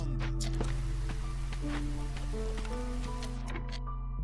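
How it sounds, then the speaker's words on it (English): Drizzling rain in the video game Against the Storm, a soft, steady patter of drops over a low, constant game drone with faint tonal music notes, with no voices. "drizzle by the looks of it"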